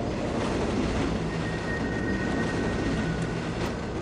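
Steady rumbling ride aboard a moving train in the SiN video game, a continuous broadband roar of wheels and carriage with a faint high whine running through it, unbroken for the whole stretch.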